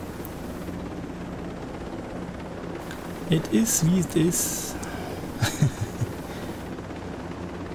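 Helicopter flight in the video game Ghost Recon Breakpoint, a steady rotor and engine drone running throughout while someone talks briefly over it.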